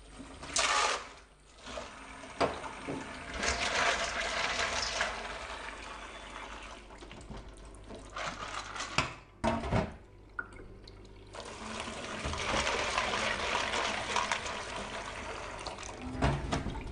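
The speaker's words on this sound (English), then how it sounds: "and then we rinse them a few times with water." Water runs and splashes over dried beans being rinsed in a kitchen, a fairly loud, continuous gushing with a few short breaks and sloshing changes, with no speech.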